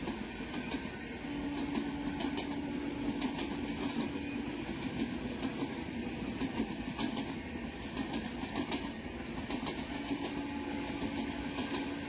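An Indian Tejas premium express with a full set of identically liveried coaches passes at speed, a steady rumbling roll with rhythmic clickety-clack of wheels over rail joints, fairly close and without voices.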